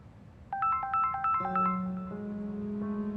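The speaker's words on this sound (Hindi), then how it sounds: "आपका फोन आ रहा है" A melodic electronic ringtone plays a quick run of bright tones, then settles into sustained chiming notes, fairly loud and close with no talking.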